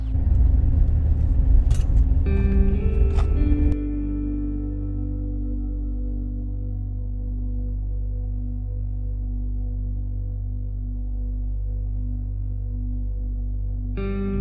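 A converted camper van rolls along the road with a steady low engine rumble and tyre drone inside the cabin, a few brief knocks and rattles near the start, then an even, continuous hum.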